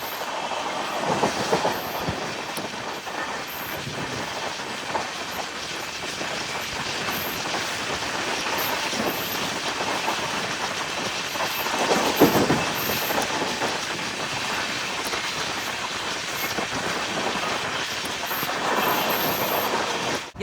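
A Tirupati Express train with LHB coaches runs steadily along the tracks, a continuous loud rumble of wheels and carriage noise with faint clickety-clack throughout and no voices.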